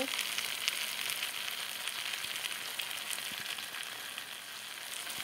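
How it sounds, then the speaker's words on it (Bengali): Chicken fries in a pan as it begins releasing its water, giving a steady, close crackling sizzle that runs unbroken with no voices. "বন্ধুরা দেখো চিকেনের থেকে জল ছাড়তে শুরু করে দিয়েছে।"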